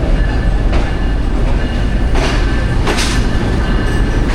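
Green Line Express train rolling into Lahore Junction station, a steady close rumble of rail cars with occasional brief hissing bursts and faint clatter, no voices.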